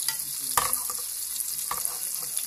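Carrots and mixed vegetables with a little parsley cook gently in a pan, a steady soft sizzle with a few stirring scrapes and clinks, close and continuous without talk.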